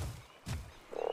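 A frog croaks in the video game ARK, a couple of short low croaks followed by a rapid rattling call at the end, close and fairly faint.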